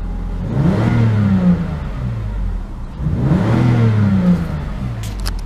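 The 3.2-litre engine of a 2013 Volvo XC90 R-Design is revved twice, each loud, close rev rising and falling over a steady idle rumble.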